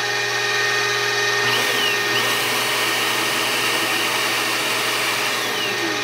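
An X2 CX605 mini-mill runs in its high speed range with gear mesh noise: a loud, steady, unbroken mechanical whine with a dense high-pitched hum that stays level throughout.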